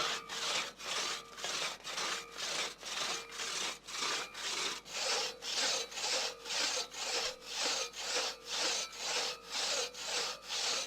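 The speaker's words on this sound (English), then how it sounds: "You then saw it down from the back with your crosscut saw" A two-person crosscut saw cuts down a tree from the back side of an axe notch, with about twenty steady rhythmic push-pull strokes rasping through the wood, loud and close with no talking.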